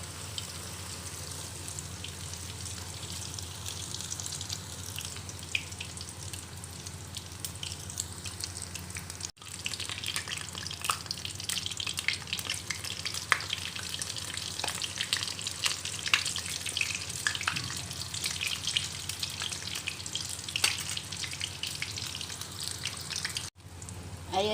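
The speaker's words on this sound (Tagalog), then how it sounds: "ipiprito na po natin yung ating talong dahil mainit na po yung ating mantika" Eggplant fries in hot oil with a constant, moderately close crackle and sizzle, dotted with sharp pops and spits and broken by two brief dips.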